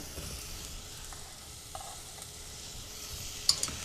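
Carrot and other vegetables stirred in a sizzling fry pan while cooking leftovers soup: a steady, faint hiss of frying with soft scraping and a few sharp clinks of the utensil against the pan near the end, without talking.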